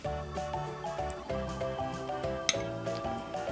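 A metal spoon clinks against a mug holding a microwaved mug cake, with a few light taps and one sharper click over a background of music.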